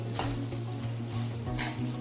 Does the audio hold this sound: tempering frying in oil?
yes